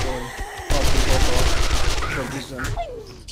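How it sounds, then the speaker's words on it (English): Dense video-game gunfire from 7 Days to Die, a loud sustained fusillade of shots hammering on continuously, with voices talking over the din. "I'm having trouble over the hearing over the sound of gunshots."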